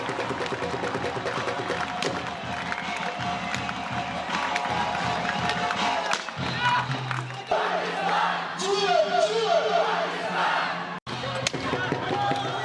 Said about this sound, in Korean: 힘찬 함성 소리가 울려 퍼지기 무섭게